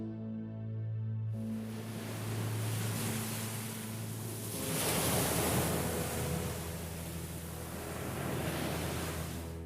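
Steady wash of ocean surf with rolling swells rising and falling, a low rumble underneath and no voices.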